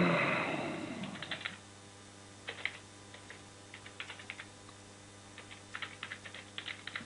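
Computer keyboard typing in short, irregular bursts of light clicks, fairly quiet and close, after a brief louder rustle at the start.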